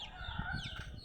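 Backyard chickens cluck softly on a grassy plot while a rooster's drawn-out crow rises faintly behind them, a steady low murmur without speech.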